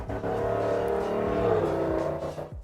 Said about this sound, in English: Thank you, car going by.